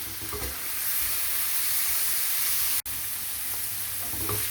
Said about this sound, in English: Fry for 2-3 minutes.